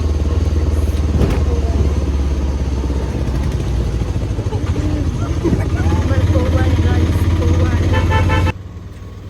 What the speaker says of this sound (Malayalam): നമ്മൾ ഞാൻ പോയിക്കൊണ്ടിരിക്കുകയാണ് ഓട്ടോറിക്ഷയിൽ